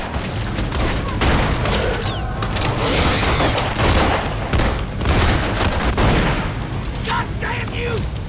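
Dense gunfire from the zombie movie Planet Terror crackles and booms in rapid volleys, loud and continuous, layered with shouting voices and action-movie noise.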